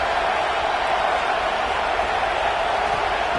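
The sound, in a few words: stadium crowd cheering at a football game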